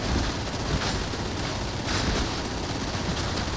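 Torrent weapon, the Accatran Mark 6D, firing in Warhammer 40,000: Darktide, a dense, continuous stream of rapid gunfire held steady at high volume throughout with no pauses.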